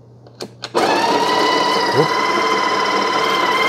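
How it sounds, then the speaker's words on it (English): The built-in grinder of a Breville Barista Express BES870XL espresso machine whirs steadily at close range after a couple of brief clicks, holding a constant high motor whine for about three seconds. "so that starts the grind when you push it in"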